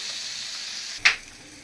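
A steady, bright hiss of fish frying in hot oil, with one short sharp pop near the end.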